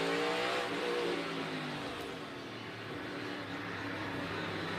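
NASCAR stock cars running in a pack during Busch Clash practice roar past, engines revving loud at first, easing slightly in the middle, then swelling again into a sustained mid-distance drone.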